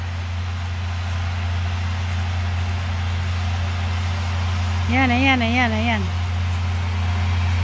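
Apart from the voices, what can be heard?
John Deere tractor running while baling hay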